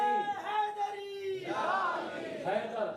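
A crowd at an Ahlebait religious conference in Aurangabad raises the Naara-e-Haidari slogan, a loud collective shout swelling in two waves, with a lead voice calling out before the mass response.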